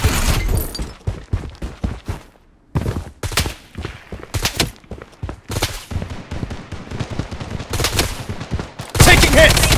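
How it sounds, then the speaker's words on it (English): A heavy fire turret blasts away in the shooter game Project BloodStrike. Dense bursts of loud, close gunfire go off in rapid volleys with short gaps between them, and a harsh final burst ends the sequence. "Heavy fire turret activated."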